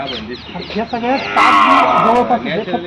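A desi cow at a cattle research and training centre near Pune gives a loud, drawn-out moo in the middle, which stands over people talking nearby.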